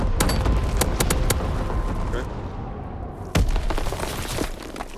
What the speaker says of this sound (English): Carpet bombing run inbound.